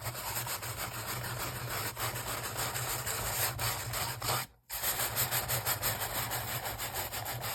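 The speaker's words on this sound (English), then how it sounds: "let's rough it up with the sandpaper again." Sandpaper scraping back and forth over dyed paper to roughen and age it, a continuous close-up rasping rub with one short pause midway, alone without talk.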